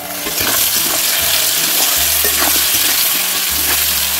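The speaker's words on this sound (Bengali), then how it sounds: "আলু ভাজাটা নেড়ে আসি" Sliced potatoes fry in a pan while being stirred, giving a close, continuous sizzle with scraping stir strokes and soft knocks throughout.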